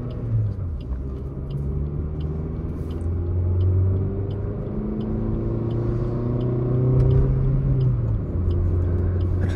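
A Maruti Swift ZXI+ car accelerates hard in a 0-100 run with a laggy transmission, its engine droning steadily and rising in pitch through several gear stretches, close and loud inside the cabin, with a faint ticking indicator overhead.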